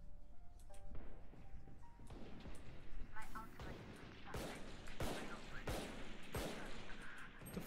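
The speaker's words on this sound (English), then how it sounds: "Why am I hearing like 10 gunshots at once?" Many gunshots fire at once in a rapid, overlapping barrage, with voices talking over the clatter.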